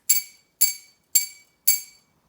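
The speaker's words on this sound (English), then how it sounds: "the sound that I matched with Little Red Riding Hood was a glass and a whisk" A whisk strikes a glass four times at an even, steady pace, each bright ringing clink fading out before the next, close and alone with no voices.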